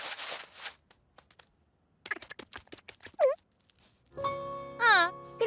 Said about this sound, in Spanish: ¡Ven, pajarito!